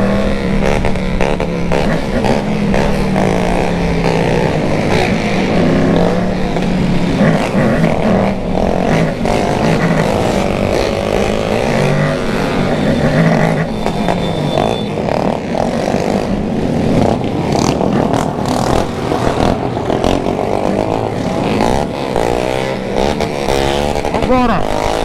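Car engine and exhaust revving in a Christmas convoy through a neighbourhood, a loud, continuous rumble with rising and falling revs running throughout, under people talking.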